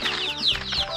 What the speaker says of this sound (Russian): Классно, цыплятами кидаемся.